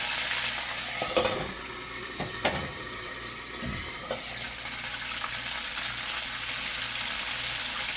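Russian space food sizzling and frying in hot oil on a stovetop burner turned down low, a steady broadband crackle with a few brief louder pops and clinks, close and continuous with no talk.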